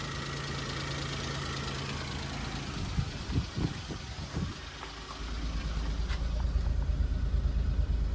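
A Suzuki Jimny JA11 engine idles, gets a few quick throttle blips, then settles back into a low, steady idle, fairly quiet and close.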